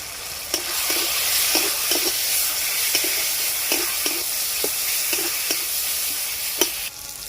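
Chopped tomato with chili and turmeric powder sizzles steadily in a pan, with a stirring spoon scraping through it in short, regular strokes, close and fairly loud with no talking.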